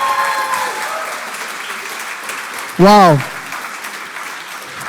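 An audience at an entrepreneurship pitch event applauds steadily, and the clapping fades gradually; midway a single loud exclaimed voice cuts through above it.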